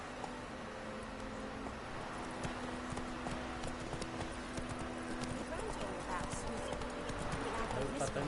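Horse hooves gallop and clip-clop steadily in The Witcher 3 on PS4 Pro, a continuous rhythmic thudding under game music and ambience while someone talks over it.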